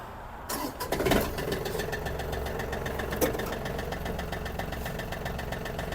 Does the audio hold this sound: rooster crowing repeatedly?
no